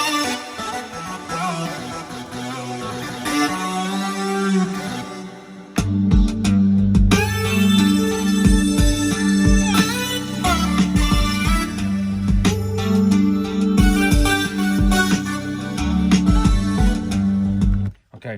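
A resampled, layered synth stack played on an MPC with air delay and reverb, a sparse opening that gives way to a fuller, louder chord progression with rhythmic hits, sustained until an abrupt stop near the end.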